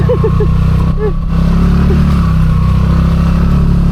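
Motorcycle engine revving and idling close by during a solo muddy moto-camping ride, a loud steady low drone with brief throttle blips early on and a short dip in the first second.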